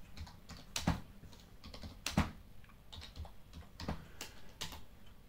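Text is typed on a computer keyboard in quiet, irregular bursts of soft clicking keystrokes with a few sharper taps, heard close with no talking.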